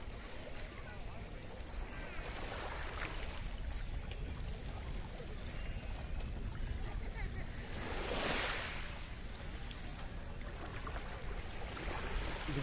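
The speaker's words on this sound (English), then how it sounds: "the sea laps against the shoreline" Sea waves lapping against the shoreline on Rikkos Beach: a soft, continuous wash of surf with one fuller swell partway through, mixed with light wind buffeting the microphone.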